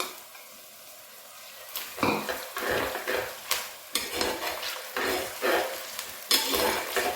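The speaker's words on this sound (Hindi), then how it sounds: "अदरक डाल के बहुत ही लाइट सा इसको फ्राई करना है" Onion and ginger fry lightly in a pan for a Punjabi dhaba-style aloo baingan, a soft steady sizzle broken by several louder bursts of stirring and scraping, close and with no voices.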